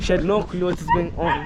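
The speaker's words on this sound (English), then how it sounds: "that's my dog right there" A dog yips and barks in quick, close bursts, tangled with a person talking at the same moment.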